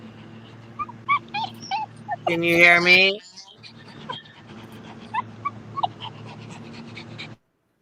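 A dog whimpers and yips in short, high whines scattered across the clip, fairly close, while a person talks over it in a loud burst midway.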